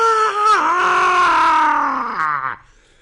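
A harsh, sustained scream with a groaning, roaring edge rises and bends, then drops away after a few seconds, loud and close, voiced as a demonic, pained cry in a horror story set in a temple.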